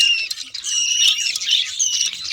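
A white budgerigar with swollen, closed eyes gives loud, close, harsh squawks in a continuous rapid series.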